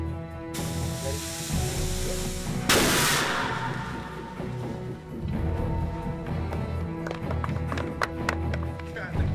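A Jericho missile test explosion on the Iron Man film set at Lone Pine bursts out as a loud blast that swells into a long rushing roar, with voices and hiss continuing around it.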